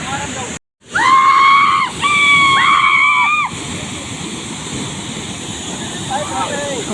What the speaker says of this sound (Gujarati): જો કેવું પાણી આવે તમે જોઈ શકો છો